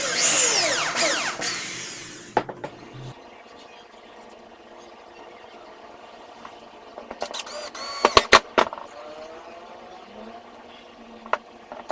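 A power drill driving a screw to join two wooden pieces of a modular Tetris-style shelf, a steady whirring burst at first, then short bursts and clicks amid quiet handling noises.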